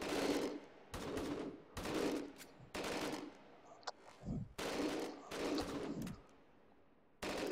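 Rapid bursts of gunfire from the VR shooter Hot Dogs, Horseshoes & Hand Grenades, played in its Arena Prototype mode, crack out in about eight loud volleys with brief pauses between them.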